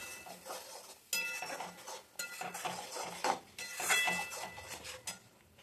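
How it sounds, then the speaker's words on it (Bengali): Mustard masala paste for a bhola fish jhal is stir-fried in a pan: faint, close scraping and clinking of a spatula in uneven strokes over a low sizzle, with no talking. "মশলাটা ভালো করে ঢেকে ঢেকে কষে নেবো, তেল ছেড়ে যাবে মশলাটা"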